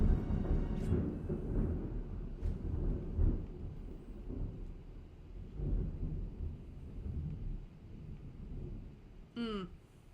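Thunder from a thunderstorm rolls through as a low, continuous rumble with a few sharper cracks, fairly loud and sustained throughout, with a faint rising tonal sound near the end.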